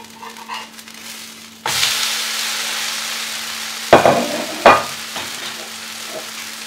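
A mixed-lentil adai fries in sesame oil on a pan: quiet at first, then a sudden steady sizzle bursts up and continues, punctuated by two sharp scraping clatters of the spatula turning it, close by.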